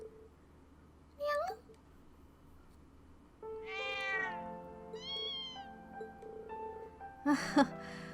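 Several cat meows, including a mother cat, sound in a video game, Trails of Cold Steel 2: short mewing calls spaced apart, then a cluster of overlapping meows, over faint background music.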